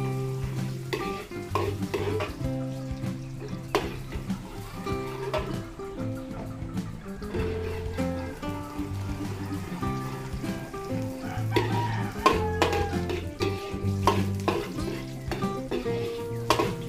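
Garlic sautés in hot cooking oil for bihon cooked for an 87th birthday celebration, with a steady close sizzle broken by repeated stirring scrapes and clinks throughout.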